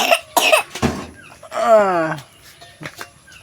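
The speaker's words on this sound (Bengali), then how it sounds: "কাশি কাশি করছি" A person at home coughs several times in short harsh bursts, followed by a longer rasping, wheezy throat sound, then scattered quieter noises and brief voices nearby.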